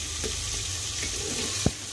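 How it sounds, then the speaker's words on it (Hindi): Taro pieces frying in a pan while being stirred gently, a steady hissing sizzle with soft scraping and one sharp clink near the end. "अब हम ये अरवी डाल देंगे और इसको भी हम हल्के हाथों से चला लेंगे। इसको भी हम भून लेंगे अच्छे से"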